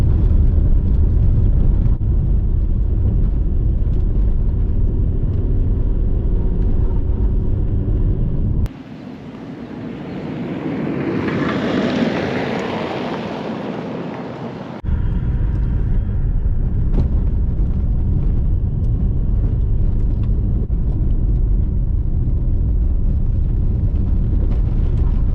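A car rolls along a gravel road, producing a loud continuous roar of tires and engine throughout, with a shift in tone for several seconds in the middle before the steady rumble returns.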